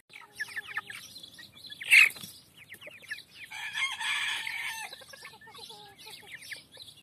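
Purebred and crossbred chickens cluck and chirp close by, with a loud squawk and a busy burst of calls, moderately loud against quiet surroundings.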